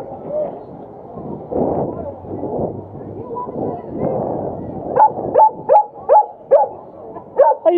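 A dog at the beach barks in a quick series of sharp, loud yips in the second half, with people talking and background noise beforehand.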